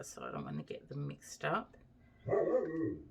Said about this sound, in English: that's my dog barking at the leaves again